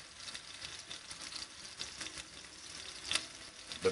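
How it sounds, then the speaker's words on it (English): Quiet steady sizzling crackles inside a homemade wood-fired pizza oven, a faint hissing patter heard from a distance with a few louder pops, no talk. "but man, I tell you, it's sizzling in there."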